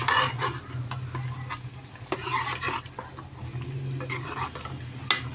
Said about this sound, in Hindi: इसको हम अच्छे तरीके से मिक्स करेंगे